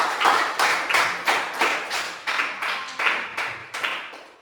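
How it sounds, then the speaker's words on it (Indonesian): Students applaud group 1 in a classroom with a run of about eleven sharp, evenly spaced claps in a steady rhythm, close and clear with no talking over them. "Berikan aplaus dulu untuk kelompok 1."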